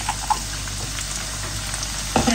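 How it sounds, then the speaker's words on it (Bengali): Garlic frying in hot oil, a steady crackling sizzle up close with a few brief pops and a clatter near the end. "গরম তেল আবার রসুন ও বাজিলিমু বালা করি"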